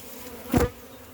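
A honey bee near a large wild hive being caught and boxed gives a single brief, close buzz that swells and fades within a fraction of a second against quiet background hiss, with no talk.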